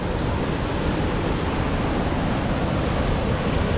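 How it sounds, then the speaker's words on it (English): A waterfall along a trail in Washington roars as a steady, broadband rush of falling water, continuous and even, with no voices. "The waterfall we came to see is that one right over there."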